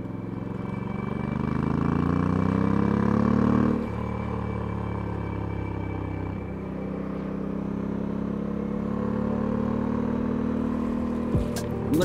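Steady engine drone with sustained low harmonic hum that rises and dips slightly as the vehicle rolls along, continuous and fairly loud throughout.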